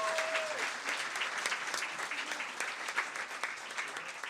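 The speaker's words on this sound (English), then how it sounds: "How about a round of applause for Scott?" Live audience at a riverboat jazz show applauding a clarinetist, a steady dense patter of clapping that holds evenly throughout, with a brief tonal note fading at the start.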